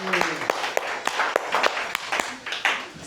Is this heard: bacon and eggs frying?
no